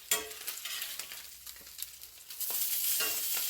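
Turkey bacon sizzles and crackles steadily in a frying pan, a dense hiss that swells louder toward the end, with occasional stirring scrapes and no talking.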